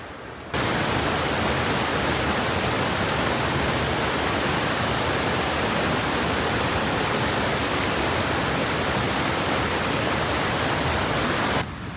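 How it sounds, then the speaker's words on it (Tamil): A waterfall near a Sri Lankan village in rainy weather, heard up close as a loud, steady, unbroken roar of falling water with no voices. "நடந்து வந்து அந்த நீர்வீழ்ச்சி பக்கத்தில் வந்துட்டோம்"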